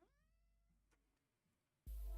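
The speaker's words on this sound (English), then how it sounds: "Yeah, come on, kitty cat." A house cat gives a single soft, drawn-out meow at close range in a quiet room, followed by near silence and then a sudden loud burst of noise near the end.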